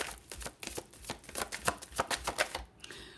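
Tarot cards are shuffled up close in a quick run of crisp riffling slaps and flutters that build in density, then trail off into quiet near the end, with no voices.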